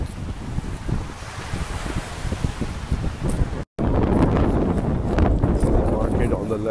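Ocean surf along the Pattaya beachfront, a constant broadband wash mixed with wind buffeting the microphone, cut by a brief dropout midway and louder afterward.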